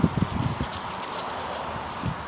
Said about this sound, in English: I'll spray down the window.